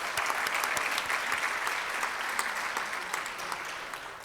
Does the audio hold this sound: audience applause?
yes